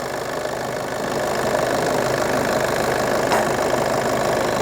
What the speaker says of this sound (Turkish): bu kadar gaz verdikten sonra hem ısıtması için gaz verdim